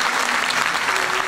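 An audience in a cultural centre hall claps loudly and continuously, a dense sustained wave of applause welcoming a Turkish singer to the stage.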